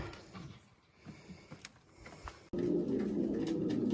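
Racing pigeons in a loft after a long competition race, cooing in scattered soft calls with faint clicks at first, then a louder, steady murmur of cooing from many birds.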